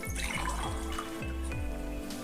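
Water pours from a vessel into a bowl for soaking rice for tamarind rice, a steady close gurgling stream with rhythmic glugs throughout.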